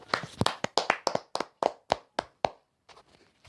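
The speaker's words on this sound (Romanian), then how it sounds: "Hai să aplaudăm abonații care au ajuns pe perete." A small group claps in sharp, separate bursts, about a dozen distinct close claps in irregular rhythm, fading to a few faint taps at the end.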